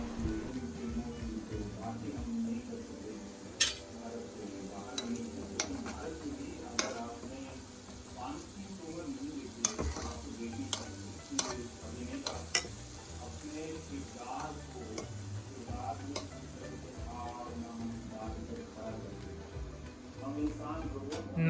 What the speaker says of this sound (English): Now start frying the balls